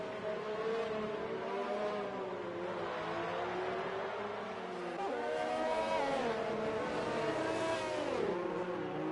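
Race cars circling a track at reduced pace behind a safety car during a caution period at Hungary, engines droning and shifting continuously and loud throughout, with no talk.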